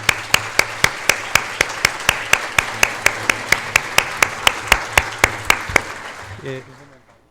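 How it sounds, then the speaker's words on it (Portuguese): Audience at an architecture lecture claps for two associated architects, a steady run of sharp, evenly spaced claps that ends abruptly with a brief murmur. "Queria que vocês levantassem uma salva de palmas também para eles"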